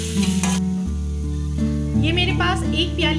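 Ginger-garlic paste sizzles loudly with onions in a pan for spicy smoked beef keema. The frying hiss is continuous and close, with stirring scrapes, under steady tonal background music.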